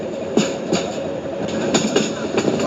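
A train rolls along steadily in the Trainz Simulator video game, with a continuous rumble and regular clicking wheel beats, loud and close throughout.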